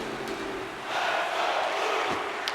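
Hockey arena crowd roaring in the video game NHL 26, a Minnesota Wild versus St. Louis Blues matchup, a swelling wash of cheering that lifts partway through and stays loud, with a thud near the end.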